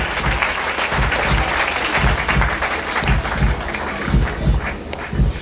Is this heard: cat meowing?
no